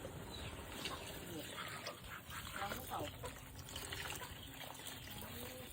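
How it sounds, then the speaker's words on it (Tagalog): Water is poured into crushed tomatoes in a cooking pan while making a Filipino tomato-braised fish dish. A steady, close splashing and trickling runs throughout over a constant kitchen background. "Lagyan natin ng tubig."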